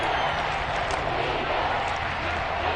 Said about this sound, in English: We get a little crowd action here too. Those FedEx Field fans are fired up.